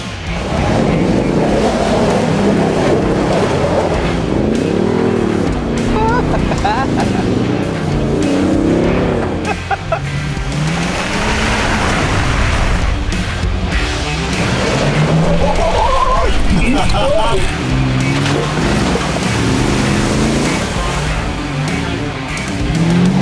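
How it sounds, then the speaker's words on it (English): Toyota TRD Pro Tacoma and Tundra trucks driving off-road, engines loud and close with rising and falling revs, rumbling and rattling throughout, with voices talking over the engine noise. "we're getting ready to go off-roading with a Tacoma and a Tundra"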